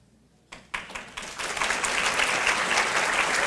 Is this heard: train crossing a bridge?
no